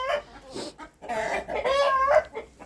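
A Cochin hen clucks and croons nearby in short, soft murmuring notes, rising into a longer warbling call before trailing off.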